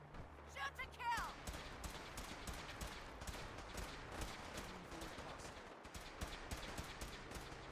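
Gunfire in the video game Fallout 4, with rapid bursts of shots cracking repeatedly over a dense, steady combat background and occasional metallic clatter, fairly busy and continuous throughout.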